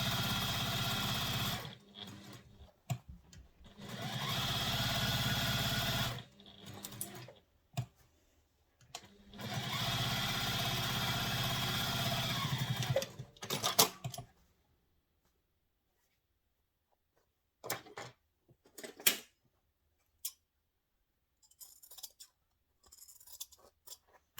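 A sewing machine bastes a pocket onto a handbag in two sustained close runs of rapid stitching with brief pauses between, then quieter scattered handling clicks and taps.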